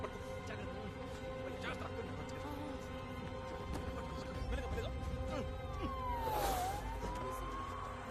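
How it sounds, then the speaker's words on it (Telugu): An ambulance siren swells in from a distance over a steady wash of traffic and street noise, its wailing tone sweeping down and back up as it draws nearer. "అంబులెన్స్ వస్తుంది"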